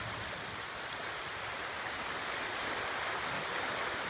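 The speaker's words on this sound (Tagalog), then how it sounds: "Kung papansinin ninyo, ito po, makikita ninyo, malalaki ang rolling o tinatawag na break na kuha ng alon" Ocean waves breaking on shore at a fishing spot, a constant broad roar of surf and rushing water that fills the whole stretch without pause, no voices.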